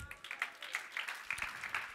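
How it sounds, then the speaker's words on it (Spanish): A church congregation claps in praise during a service, a short burst of scattered, fairly quiet clapping lasting about two seconds. "Dale palmas al Rey."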